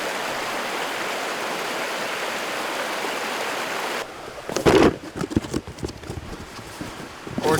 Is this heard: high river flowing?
yes